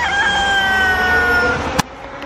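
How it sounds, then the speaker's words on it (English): Roosters crow loudly and close by on a farm in Mexico, one long drawn-out cock-a-doodle-doo followed by a sharp clatter, with no voices. "when you go to Mexico, you wake up, you hear those chickens"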